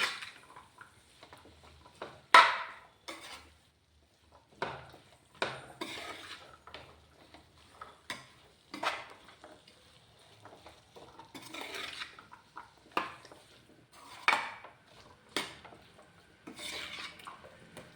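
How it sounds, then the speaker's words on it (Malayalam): Chana masala stirred with salt in a pot, a spoon scraping and clinking against the metal in scattered, fairly faint strokes over a quiet background. "ഉപ്പിട്ടതിന് ശേഷം നന്നായിട്ട് തന്നെ ഇളക്കി കൊടുക്കണം, അല്ലെങ്കിൽ ഉപ്പ് വേറെ കട്ട പിടിക്കുന്നതാണ്."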